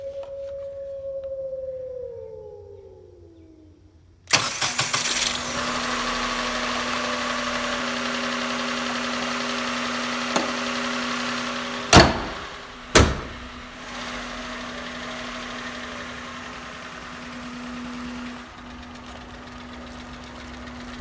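A rare project car engine, run on a jumper-wired fuel pump and a Lone Wolf 2000 jump starter, fires abruptly after a falling whine. It settles into a steady, humming idle, broken by a couple of sharp knocks.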